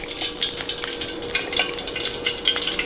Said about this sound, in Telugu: కొద్దిగా పోపు దినుసులు వేసుకుందాం.